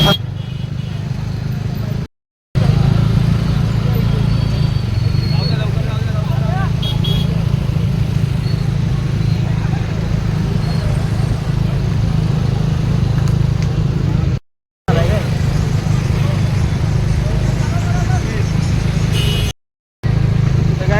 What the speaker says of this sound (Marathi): ॲक्सिडेंट झाला आहे ना, फुल ट्रॅफिक झालं इकडे